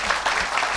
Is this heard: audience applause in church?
yes